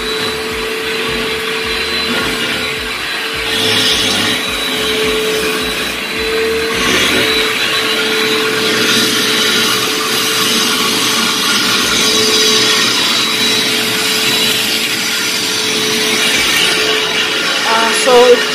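A vacuum cleaner works over a small carpeted room full of pet hair in Champions Gate, Davenport. It gives a loud, steady motor drone with a constant tonal hum and slight surges as it moves.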